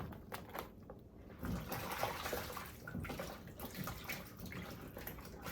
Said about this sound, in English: I'm still running some water in the sink